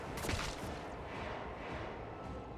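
Rapid gunfire in Warhammer 40k Rogue Trader, a dense, continuous barrage of shots holding at a steady, moderately loud level with no voices.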